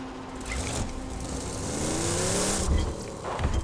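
A car driven in the video game Borderlands 2, its engine droning and rising in pitch as it accelerates, with a brief tire squeal, continuous at a moderate level and no talking.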